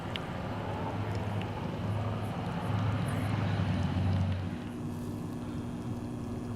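A Rain Bird irrigation control valve runs with a steady rushing flow over a low tonal hum, shifting to a thinner, more even hiss partway through; no voices.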